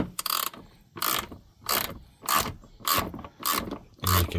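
A ratchet wrench with a Torx bit turning a bolt on a compressor mount, heard as seven loud, even bursts of clicking, each stroke followed by a short pause, close up with no talking.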